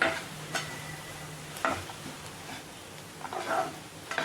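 Carrots and beans sautéing in oil with onions for vermicelli upma, a soft sizzle under a few spatula stirs and scrapes, close and fairly quiet, no voices.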